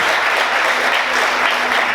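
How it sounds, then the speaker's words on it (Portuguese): Church congregation clapping together in a dense, steady burst of applause, loud and sustained throughout. "Vamos aplaudir o Senhor."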